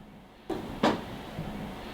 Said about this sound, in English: It's like wood creaking over here.